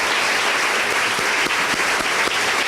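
Dense, sustained audience applause from a crowd fills the whole stretch at steady, fairly loud volume, with no talk over it.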